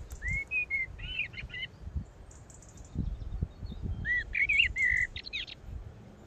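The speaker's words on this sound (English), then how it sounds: "that actually was a goldfinch there" Goldfinch song in a garden: two bursts of bright, twittering notes with liquid trills, moderately close, separated by a short pause, over faint low background rumble and no talk.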